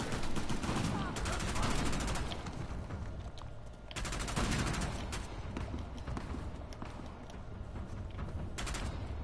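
Rapid bursts of gunfire from the video game Uncharted: The Lost Legacy crackle loudly and almost without pause, clustered volleys repeating over a dense, constant backdrop of game noise.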